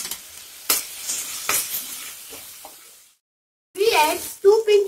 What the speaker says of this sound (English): We will add garlic paste and spices and mix all.